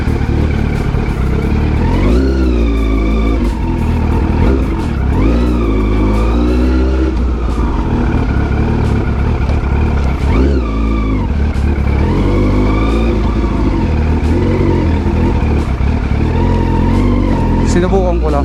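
Yamaha R1 1000cc sports motorcycle ridden on the road, its engine loud and close throughout, revving up through repeated rising pulls with sharp drops between gear changes over a steady engine drone.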